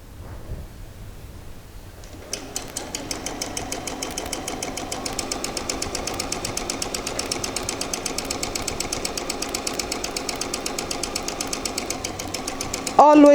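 A sewing machine runs steadily as it stitches a shorts piece, a fast even mechanical chatter that starts after a short pause and continues close and loud, with a brief louder clunk at the end.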